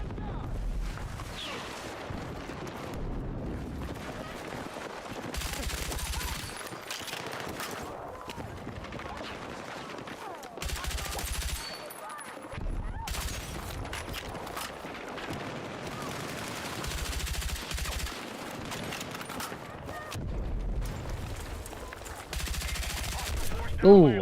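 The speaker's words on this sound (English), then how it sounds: "This is the Broad assault rifle." Assault rifle fire from the Broad rifle in the Battlefield 6 video game comes as repeated bursts of gunshots with booming battle noise, under ongoing talk throughout.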